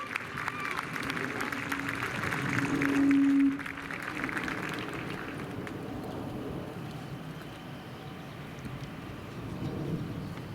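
Sustained applause from a crowd at an elementary school graduation ceremony, a steady dense wash of clapping lasting throughout, with a brief tonal voice or sound rising near the start.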